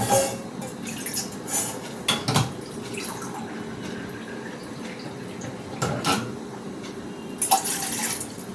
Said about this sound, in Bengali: এই যে চা বসাচ্ছি